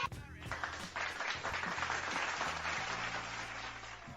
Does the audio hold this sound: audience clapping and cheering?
yes